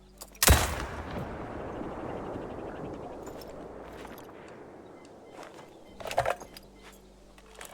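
Hansen rifle fired from the hip in theHunter: Call of the Wild: one sharp, loud shot with a long rumbling tail, then a second burst of shots and clatter several seconds later.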